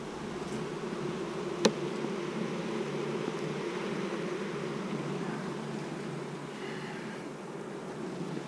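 Honey bees buzz around a hive in a steady, close drone that holds throughout, with one brief sharp tap near the start and no talking.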